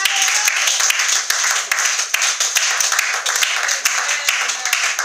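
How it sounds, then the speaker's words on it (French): Church congregation applauding through a sustained stretch, with dense, steady clapping and scattered sharp claps filling the room and a faint voice or cheer mixed in. "Est-ce qu'on peut offrir une offrande d'acclamation à notre Dieu?"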